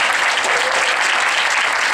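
Loud, steady applause from a lecture audience at a Bible lecture, continuous dense clapping filling the whole moment with no voices on top.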